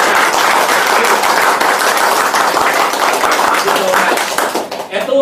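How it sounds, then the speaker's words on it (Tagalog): Loud audience clapping for invited partners, dense and continuous before thinning near the end as a voice comes in over the fading claps. "Dapat palakpakan natin sila ng malakas."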